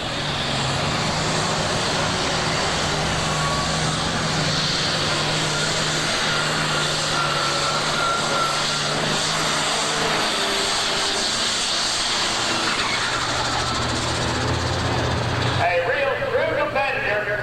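A 7500 Super Stock pulling tractor's engine roars continuously at full power for many seconds at the 1988 Ohio State Fair, with an announcer talking over it, then the pitch drops as it eases off.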